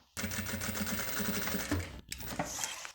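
A sewing machine stitches a seam on a handmade bag with a transparent window, running in fast, even rhythmic bursts up close, pausing briefly before a short second run.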